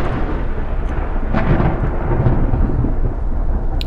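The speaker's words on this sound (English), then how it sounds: "just a bit of thunder" Thunder rolls through a paranormal horror video game, a loud, sustained low rumble with a swelling crack midway that fills the whole stretch without any talking.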